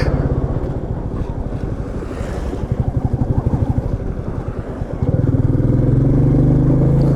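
A Royal Enfield Meteor 350 motorcycle rides through a river in the Elan Valley, its single-cylinder engine thumping in a loud, rapid, pulsing beat that steadies into a heavier drone, with wind buffeting the microphone.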